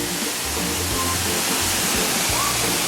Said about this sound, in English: as you can see, we've got a beautiful misty waterfall